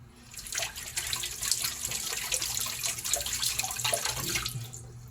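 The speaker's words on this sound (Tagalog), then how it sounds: "Tapos guys, hugasan natin ang mansanas." Tap water runs steadily into a sink while apples are washed under it for about five seconds, with a close, even splashing rush that fades briefly near the end.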